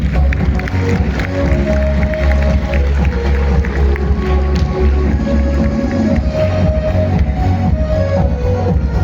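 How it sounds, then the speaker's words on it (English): Audience at a school prize ceremony in a large hall applauding steadily, a dense sustained wash of clapping that holds at an even level throughout, with faint murmuring mixed in. "have a huge round of applause for this rapid expansion, please"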